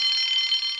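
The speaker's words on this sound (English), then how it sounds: "Soon came the alarm." Alarm bell in a Thomas the Tank Engine railway story, ringing as a bright continuous high tone at steady volume.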